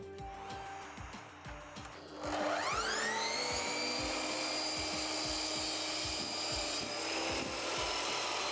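A Japanese rasp files wood on a halving joint: a steady run of rhythmic rasping strokes, close and fairly loud, with no one talking.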